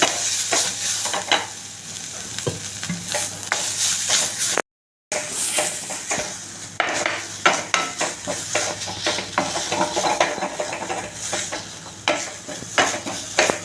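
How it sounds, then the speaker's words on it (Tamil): Grated coconut sautéing in ghee for carrot ashoka, with loud, close sizzling and repeated spatula scrapes and clatters against the pan, broken by one short silent gap. "ரெண்டு ஸ்பூன் போல் தேங்காய் வச்சுருக்கோம் அதையும் இந்த நெய்யில் வச்சுக்கலாம்"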